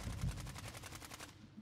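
Rapid automatic gunfire in a video game rattles off in a fast, even burst of about a dozen shots, fairly faint and distant, before cutting off.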